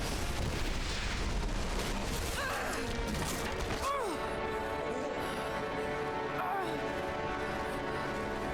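A missile launches and explodes in Rise of the Tomb Raider, with gunfire and crashing impacts in a busy, layered game battle mix and a whooshing projectile sweep midway.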